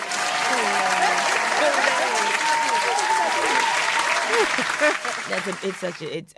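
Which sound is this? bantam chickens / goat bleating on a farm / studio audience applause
studio audience applause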